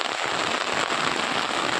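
Heavy rain pours down on open farm fields in Banaskantha during a thunderstorm, a dense, steady hiss with a fine crackling patter that holds without pause.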